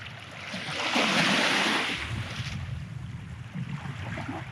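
Open water of Tawas Bay washes over a flooded sandy trail on Tawas Point, a steady broadband wash of small waves and surf with wind buffeting the microphone, swelling briefly near the start then settling into a constant rush.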